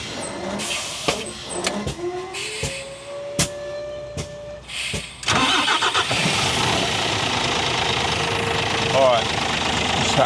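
A new truck's engine is started and then runs with the power take-off engaged, a few sputtering cranks and clunks giving way to a steady, loud mechanical drone and rattle, with someone speaking near the start.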